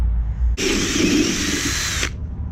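A hole saw on a power drill cuts a 1 3/4 inch hole through wood. It makes a loud, steady whine that starts abruptly and lasts about a second and a half before stopping, with no talking.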